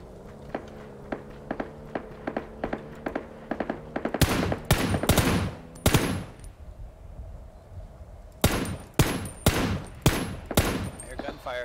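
Bursts of rapid video game gunfire, first scattered sharp shots then several loud, sustained volleys separated by short pauses, with no talking.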